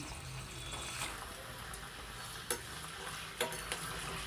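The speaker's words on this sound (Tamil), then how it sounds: "அந்த சிக்கனை வந்துட்டு பொரிக்கிறதுக்காக போடுறேன்" Pre-cooked chicken frying in hot oil for homemade chicken pickle, a steady close sizzle and crackle with a few sharp pops and clinks from stirring, no talking.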